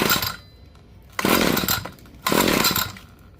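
An ECHO SRM-2620 string trimmer's small two-stroke engine being pull-started, two loud bursts of buzzing rasp about a second each, separated by quieter pauses, heard up close with no talk.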